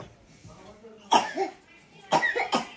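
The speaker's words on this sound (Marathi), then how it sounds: "खोकलू राहिलं बरं पोरगा." A boy coughs close by: one sharp cough, a short pause, then a quick pair of rougher coughs.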